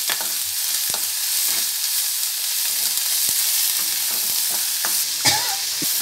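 Sliced onions sautéing in a pan with salt and turmeric, a steady close sizzle with occasional scrapes and stirs of a spatula, no talking.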